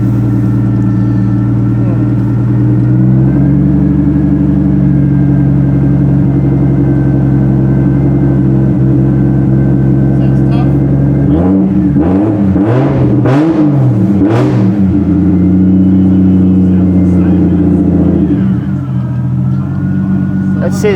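A Nissan Laurel, just worked on and with a slipping power steering belt, idles loudly and steadily, then is revved hard several times before settling back to idle, with voices at times.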